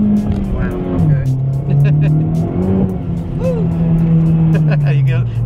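Honda Civic Type R driven hard in R mode, engine droning loud and close with pitch rising and falling through gear changes, a continuous strained note under excited talk from the occupants.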